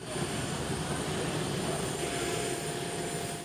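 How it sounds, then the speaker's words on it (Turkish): A Turkish Air Force C-130 military transport plane lands at Sabiha Gökçen Airport in Istanbul, a steady, fairly faint broadband propeller-engine roar that holds constant and fades at the end. "Tel Aviv'den havalanan Türk Hava Kuvvetleri'ne ait C-130 tipi askeri uçakla Sabiha Gökçen Havalimanı'na iniş yaptı"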